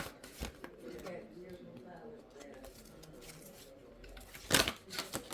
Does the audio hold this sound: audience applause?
no